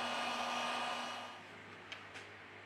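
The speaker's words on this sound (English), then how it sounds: "With the help of a heat gun, we apply 90 Celsius degrees during 4 minutes." A heat gun blows hot air with a steady whooshing roar that fades partway through to a lower hum, and two faint clicks follow near the end.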